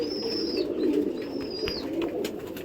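Champion pigeons coo softly and steadily in a loft, a low rolling murmur close by, with a couple of thin whistling chirps over it.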